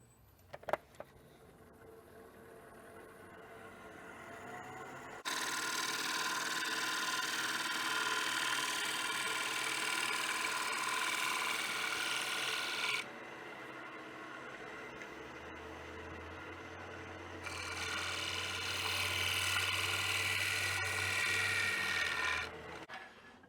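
A steady, close rasping scrape of a steep-winged gouge making a shear cut inside a spinning wooden bowl, in two long passes with a brief quieter pause between, no talking.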